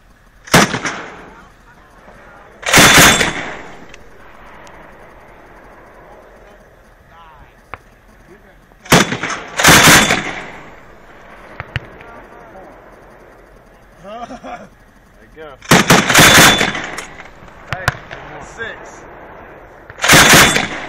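An MK 19 grenade launcher firing on a range: several loud, booming bursts spaced a few seconds apart, each a tight cluster of heavy reports, with outdoor ambience and brief talk between them.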